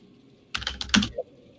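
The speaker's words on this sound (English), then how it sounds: "you guys start to complain that you can hear me typing really fast" A mechanical computer keyboard clatters in a quick burst of about five sharp keystrokes lasting half a second, close and crisp, with quiet surroundings before and after.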